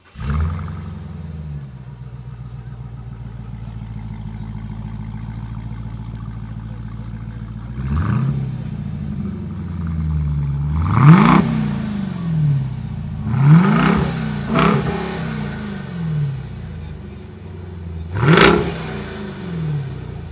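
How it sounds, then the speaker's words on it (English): A 2026 Dodge Durango Hellcat Jailbreak SUV's V8 idles with a deep burble, then fires off several sharp revs, its exhaust roaring loud and close in short bursts. "this thing has absolutely phenomenal exhaust sound"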